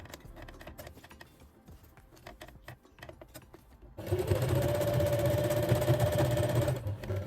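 A sewing machine top stitches along the lower edge of elastic on a waistband for wide-leg pants, running loud and steady for about three seconds after a quieter stretch of light handling noises.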